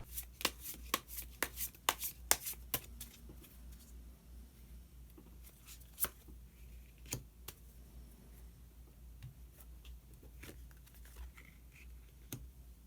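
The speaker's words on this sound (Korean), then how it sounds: "마지막으로 히든 카드 한 장 더 뽑아보도록 하겠습니다" Tarot cards are shuffled and one is drawn, soft close riffling and papery flicks in quick irregular bursts that thin out into scattered light taps, with no talking.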